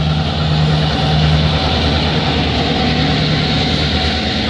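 A CN freight train hauled by two GP38 locomotives rumbles past, a loud, continuous drone of engine hum and rolling wagons that holds steady throughout.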